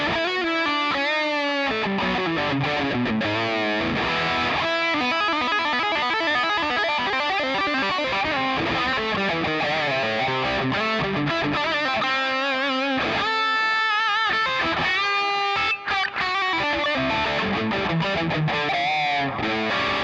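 Electric guitar through a Digitech RP355 multi-effects unit, a mid-heavy 1980s hard rock tone built on a GCM 900 amp model, plays continuous distorted lead lines and bends, loud and upfront with no talk.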